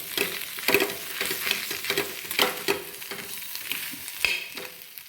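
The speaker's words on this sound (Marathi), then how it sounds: "हे बटाटे कट करून घेतले ते घालून घेते बटाटे छान मिक्स करून घेते" Cut potatoes tossed with turmeric fry in a pan, making a soft sizzle under repeated rhythmic spatula scrapes and knocks against the pan, close and without any speech.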